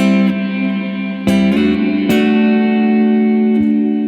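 Electric guitar chords through a Sonicake Levitate reverb pedal ring out with a wash of reverb, each strum blooming and trailing into a lingering, spacious tail.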